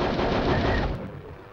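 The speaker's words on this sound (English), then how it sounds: "I can use a machine gun on the shelter." Rapid machine gun fire from the Hogs of War PS1 game, a dense continuous loud burst that holds steady before easing slightly toward the end.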